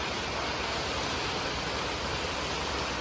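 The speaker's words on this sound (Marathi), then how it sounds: "इथं पाऊस पडतो बघा ट्रेनला." Rain falls on a train, a dense, even hiss of steady downpour that stays constant and moderately loud, with no voices.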